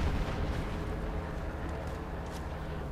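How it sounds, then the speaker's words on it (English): An artillery strike lands in the Company of Heroes 2 strategy game, a dense continuous rumble of blasts at steady volume, with only faint talk. "There we go, artillery going down here, trying to wipe it all out."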